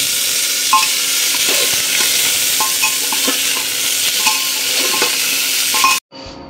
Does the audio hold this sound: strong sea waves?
no